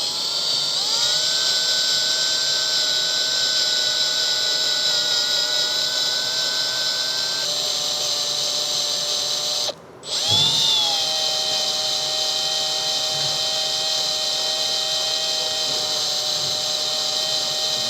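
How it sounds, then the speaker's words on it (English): Power drill whining steadily as it bores plastic out around a wheel speed sensor on a 2017 Honda CR-V, high pitched and close, with a brief stop midway before spinning back up. "I'm just drilling it."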